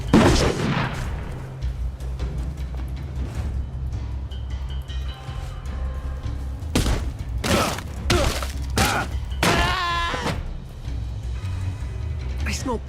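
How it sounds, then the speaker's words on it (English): A grenade blast and bursts of gunfire in the video game We Happy Few land as several loud, sharp explosive hits and crackling volleys among shouting voices and game sounds. "Smoke him out. Hit the dirt. Grenade."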